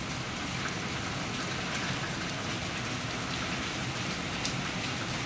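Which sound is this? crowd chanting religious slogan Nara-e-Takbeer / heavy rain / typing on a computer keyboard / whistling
heavy rain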